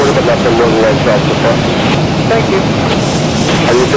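Boeing 737 engines in a Zibo Mod flight simulator spool up to a dense, steady roar as the throttles advance, with someone talking over the engine noise.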